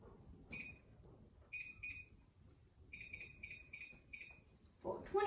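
A kitchen timer being set for brownies gives short, sharp electronic beeps in irregular clusters, some single, some in quick runs of three or four, fairly close and clear, ending with a brief clunk.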